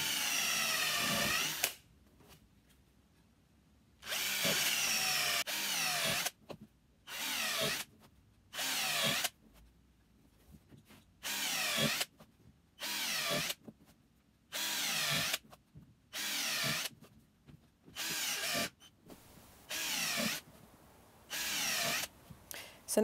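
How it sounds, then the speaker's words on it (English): A power drill fitted with a hole-cutting attachment bores into foam for a tufted bench cushion, running in a dozen loud, close, whining bursts of a second or two, separated by short quiet pauses. "So this is the tool that I use to cut the holes in the foam. It's just an attachment for my drill"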